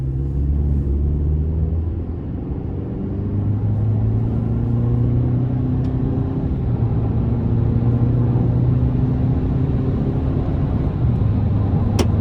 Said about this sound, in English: So definitely not flooring it, but just giving it that moderate throttle, it got up to speed relatively easily.